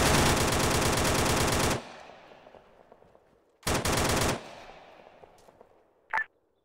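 Automatic gunfire in the military video game Arma 3 comes as two loud, dense bursts separated by a fading echo, followed by one short sharp report.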